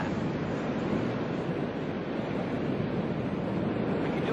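Ocean surf from a surfing film, a steady, loud wash of breaking waves and rushing water filling the whole stretch with wind-like roar and no pauses, with no voices over it.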